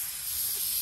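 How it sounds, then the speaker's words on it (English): Compressed air hisses out of a Harbor Freight sandblaster pressure tank valve, a loud, steady, bright rush of air that holds without a break. "we pull this to release a lot of air"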